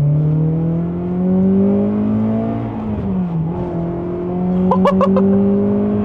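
A naturally aspirated Honda Accord Euro CL9 accelerates from inside the cabin, its engine note climbing smoothly through the revs, dipping briefly at a shift, then rising again with a loud steady drone.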